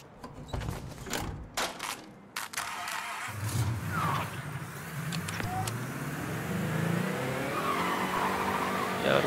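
A car in the video game Mafia 3 is driven off, with a few sharp knocks first, then an engine rising steadily in pitch as it revs and accelerates, with brief tire squeals over the steady drone.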